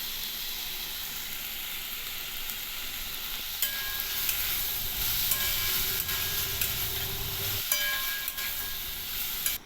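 Papaya masala with garam masala fries in a pan, giving a loud, continuous close-up sizzle and hiss, with repeated stirring scrapes and a brief clatter partway through.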